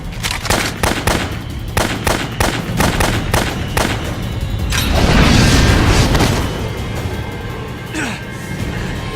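Rapid gunfire in the video game Valkyria Revolution, a dense volley of sharp, loud shots that gives way to a heavy rumbling blast midway, followed by scattered mechanical clanks. Voices speak over the shooting.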